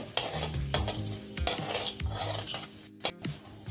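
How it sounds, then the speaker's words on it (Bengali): Half a spoon of black cumin seeds sizzle in heated oil in a pan as the tempering fries. A spoon stirs and scrapes the pan in repeated sharp metallic clinks over a steady hiss, with no talking. "এখন ফোড়নটা আমি একটু 30 সেকেন্ডের মতো ভেজে নেব"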